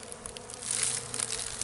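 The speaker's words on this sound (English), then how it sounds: "You'll see there's wasps." Wasps and bees buzz around a beehive entrance while robbing it, a close, steady insect drone that swells slightly midway through this brief moment.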